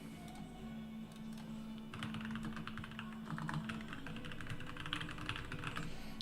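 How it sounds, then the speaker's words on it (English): Quick bursts of clicking on a computer keyboard, light and close, with brief pauses between runs of keystrokes and no talking. "I'll type it in chat right now."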